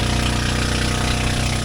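A loud, exposed engine on the open stern of a small Philippine bangka diving boat drones steadily up close, a dense, unbroken rumble with a pulsing low throb and no voices.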